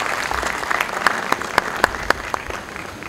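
A conference audience gives the chief guest a round of applause, a steady wash of many hands clapping with a few sharper, closer claps standing out, and no speech over it.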